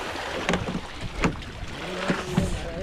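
Strong waves at sea slapping against a boat, with irregular splashing thuds over a steady rush of water and wind noise.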